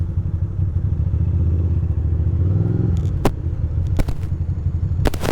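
A Yamaha R3 motorcycle rumbles nearby on a New York City street, its engine droning steadily with a few sharp clattering knocks near the end.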